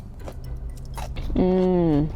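Close, crisp chewing of crunchy broccolini seasoned with garlic, a few soft bites followed by a sustained, hummed voice of enjoyment over the final chews.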